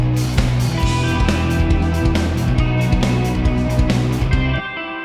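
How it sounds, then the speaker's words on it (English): Arpeggiated picking on a second electric guitar drives a cover, playing as fast repeating notes within a dense, loud full-band mix that cuts off just before the end. "on the second guitar is the arpeggiated picking"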